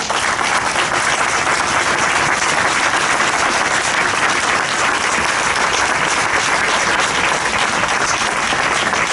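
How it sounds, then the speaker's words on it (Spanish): Loud, sustained applause from a crowd at an outdoor memorial tribute in Málaga, a dense, unbroken wash of clapping from start to finish. "Por favor, un aplauso para ellos."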